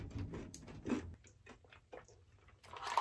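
Someone chews sesame cakes at a breakfast table, producing soft, close, repeated crunching bites, quiet and without talk.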